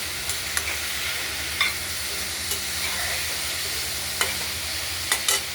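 Bharali (tharkol) ghonto being stirred in a pan, a steady frying sizzle and hiss with a few soft scrapes and clinks of the spoon spaced through it, close and alone.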